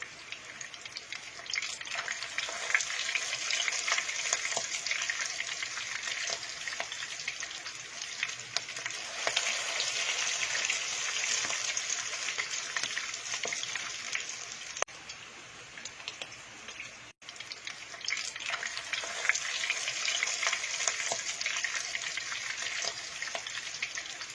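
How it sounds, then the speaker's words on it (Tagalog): A keto tuna burger fries in oil in a pan with a steady, dense sizzle that continues for the whole stretch, close up and without talking. "you can turn your burger nicely without splashing the oil too much"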